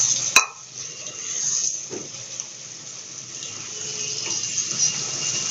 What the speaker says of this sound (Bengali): এর মধ্যে আমি দিয়ে দেবো একে একে ভাজা আলু আর সিদ্ধ করে রাখা রাজমা।